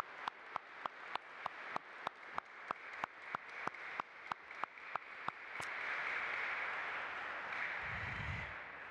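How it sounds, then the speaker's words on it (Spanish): A congregation at a Spanish Mass for Corpus Christi claps, a steady run of about twenty even claps spaced roughly every quarter second, then a broad hiss of room noise with a low rumble near the end. "Celebración dándole un fuerte aplauso a Jesús, Eucaristía presente entre nosotros."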